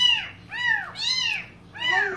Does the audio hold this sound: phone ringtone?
no